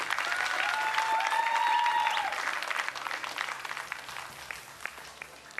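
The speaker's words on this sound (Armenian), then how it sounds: "Ձեր ծափարությունները Անահիտ Հովհաննիսյան։" An audience claps for a woman at a live event, a dense burst of applause that starts full and steady, then gradually thins and fades, with a few whistles near the start.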